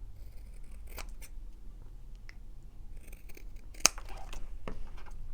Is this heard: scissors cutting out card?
yes